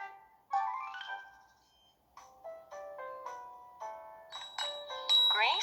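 A bright chiming doorbell melody plays a sequence of ringing tones, clear and close, ending in a busier flourish of higher notes.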